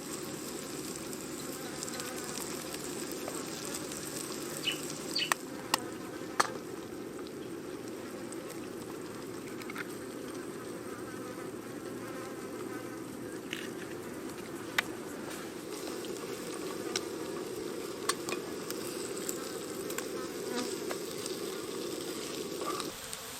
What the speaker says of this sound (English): I've got a million flies around me right now